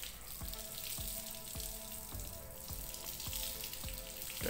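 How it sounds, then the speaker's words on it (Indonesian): Water is poured and splashed over the body of a motorcycle helmet shell during a home wash, a steady hissing splash with faint regular ticks beneath it. "Lalu kita siram ke si helmnya guys ya, ke bodinya dulu."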